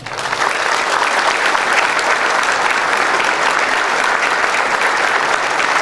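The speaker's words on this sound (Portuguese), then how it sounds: "saudemos a todos os dirigentes leonísticos, autoridades, convidados e imprensa, nominados e a todos os presentes com uma calorosa salva de palmas" Loud, warm applause rises quickly from a crowd at a Lions club district convention opening ceremony, then holds at a full, steady roar of many hands throughout.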